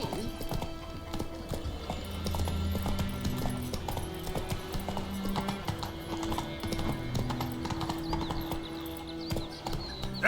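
Roach, a horse in The Witcher 3, galloping with a rapid, steady clip-clop of hooves and a brief whinny over soft game sounds, continuous and close.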